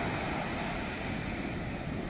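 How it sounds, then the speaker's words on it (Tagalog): Rough ocean surf from strong waves at a beach with a strong current makes a continuous, dense roar of churning water and wind noise, close and steady throughout, without any talk. "Kakatakot naman yung alon."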